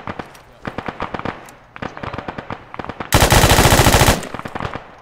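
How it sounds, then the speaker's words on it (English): Rifle fire in Arma 3: sharp, close single shots in an uneven rhythm, broken by about a second of loud, sustained automatic fire, then more scattered single shots. "I gotta stop shooting so fucking much, man."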